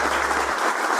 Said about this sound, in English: how about a big round of applause for Rennie Doyle?